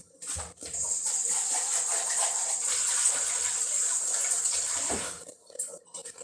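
Running tap water pours steadily over oil press parts for about four seconds, a close, bright splashing rush that starts and stops abruptly, with brief handling knocks before and after.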